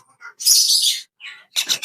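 Ringneck parakeet chicks give loud, harsh, raspy begging calls close by, in a couple of short bursts with brief pauses between them.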